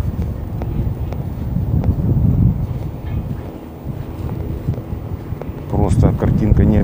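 Low, rumbling wind buffeting the microphone throughout, with gusty swells and a brief voice-like burst near the end.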